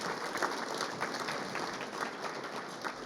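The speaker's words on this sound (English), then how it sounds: "please, a round of applause there" An audience at a community breakfast gathering gives steady applause, a continuous crackle of many hands clapping at moderate distance for the whole stretch.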